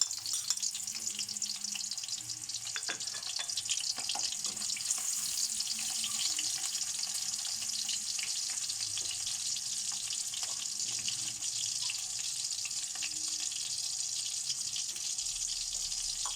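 Onions fry in a pan for tukwa with kangkong, a long steady high sizzle with scattered crackles and occasional stirring clicks, close and even in loudness, without talking.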